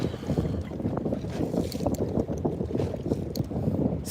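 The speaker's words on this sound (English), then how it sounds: "what I'm gonna try to do next is get out of this wind a little bit" Wind buffets the microphone on open water while bass fishing from a boat, a continuous low rumbling roar with irregular gusty pulses and no break.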